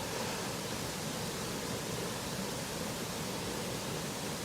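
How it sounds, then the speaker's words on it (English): A small waterfall running at a mere trickle after a night of rain, heard as a steady, soft, broadband rush with no other sounds. "Considering the amount of rain that we've had here through the night, the waterfall is just a trickle"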